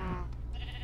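A Minecraft sheep from Sky Factory 2 gives one short wavering bleat, brief and clear, right at the start before the game ambience carries on.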